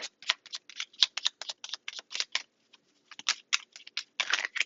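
A deck of tarot cards being shuffled by hand: rapid, crisp papery riffles and clicks in quick bursts with a brief pause midway, close and moderately loud, with no talking.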